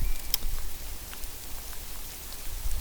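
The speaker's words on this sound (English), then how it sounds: "it's coming down hard now. It's like little bits of hail." Heavy thunderstorm rain mixed with small hail comes down hard on open heathland where deer graze, a dense steady hiss with a few sharper hits standing out.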